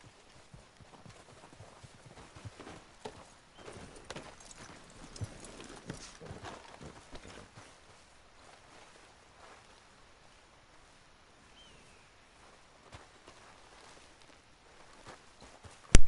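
Horse hooves clip-clop in Red Dead Redemption 2, a soft irregular patter of steps for the first half that fades out, leaving near silence with a sharp thump at the end.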